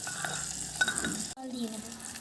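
Eggs with turmeric and salt being stirred in a clay pot, a steady scraping and soft sizzle throughout, with a brief quiet break near the middle before the stirring resumes.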